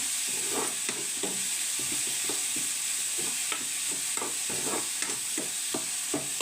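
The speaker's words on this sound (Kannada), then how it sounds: "ಸ್ವಲ್ಪ ಫ್ರೈ ಆಗಲಿ ಚೆನ್ನಾಗಿ. ಒಂಚೂರು ಇದು ಜಾಸ್ತಿ ಎಣ್ಣೆನೇ ಬೇಕು, ಎಣ್ಣೆ ಒಳಗೆ ಬೇಯಬೇಕು" Vegetables frying in plenty of oil, including tomato, a continuous bright sizzle broken by regular spoon strokes against the pan, close and steady with no speech.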